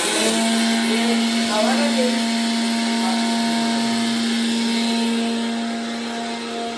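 A spice-grinding machine at a village fair runs with a loud, steady electric whine and a strong tonal hum, churning continuously close by and easing off slightly near the end while voices chatter faintly around it.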